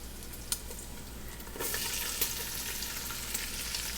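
Fatty bacon frying in its own rendered fat in a pan, a close, steady sizzle that grows louder midway, with a few sharp pops and spatters.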